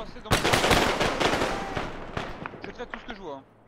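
Loud, close automatic gunfire from the military shooter Arma rattles in a fast burst, then thins into scattered distant shots, with voices shouting over the end.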